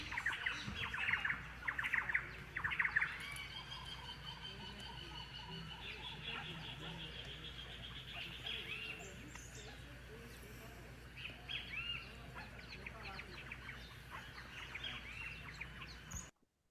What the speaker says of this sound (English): hopefully you'll be able to hear the bird, the songs, that all of the sounds while the birds were going back to their roost at night